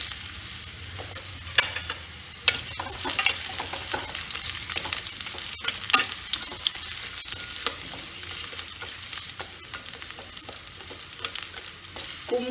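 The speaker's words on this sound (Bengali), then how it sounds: "কুমড়োটা আগে আমি ভেজে নিচ্ছি" Pumpkin pieces for a pumpkin curry fry in hot oil with a steady sizzle, while a spoon stirs and scrapes against the pan in irregular clatters, close and alone without talk.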